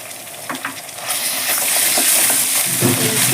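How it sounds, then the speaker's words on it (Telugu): Ginger garlic paste sizzles loudly in hot oil with onions while being stirred, a steady frying hiss that swells after the first second, with scraping spoon strokes throughout. "రెండు స్పూన్ల అల్లం వెల్లుల్లి పేస్ట్ వేసి"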